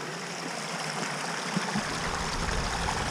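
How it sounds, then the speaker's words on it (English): Small clear forest stream on a lakeshore trail at a state park, a steady gentle babble and trickle heard close and alone. "Once again, this stream is really pretty."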